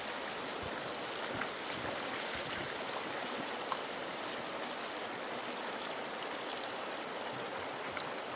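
GoldenHart prospecting power washer spraying water into a bucket classifier, a constant hissing, splashing rush of water held steady and fairly faint throughout.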